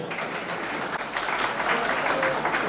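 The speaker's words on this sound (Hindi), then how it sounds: "जोरदार तालियां हमारे अतिथिगण के लिए।" Steady, dense audience applause at a college alumni meet, many hands clapping continuously at a moderate level throughout.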